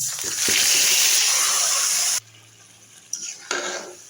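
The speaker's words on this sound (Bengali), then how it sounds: "দিয়ে দিলাম জিরা, তারপরে দিয়ে দিলাম মাছ" Magur catfish and cumin seeds go into hot oil in a pan, giving a loud, dense sizzle with stirring clatter that cuts off sharply halfway, leaving a quiet hiss and a couple of short scrapes.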